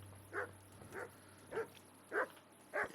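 A dog in the video game Kingdom Come Deliverance gives five short, soft barks or whimpers at a steady rhythm, faint and a little distant over a quiet hum.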